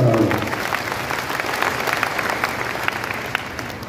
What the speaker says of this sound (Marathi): त्यांचं सर्वांनी टाळ्या वाजवून स्वागत करावं